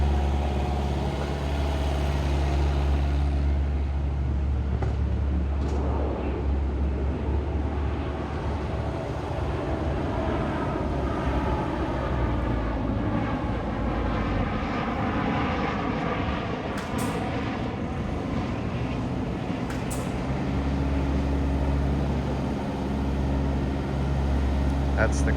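Terex 5519 telehandler driving in crab steer over a bumpy road, its diesel engine droning steadily and loud close by throughout, with a voice talking over it.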